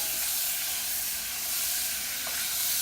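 Butter sizzles hard in a very hot pan while roast duck is being prepared, a steady close hiss with no pauses, plus a single faint clink near the end.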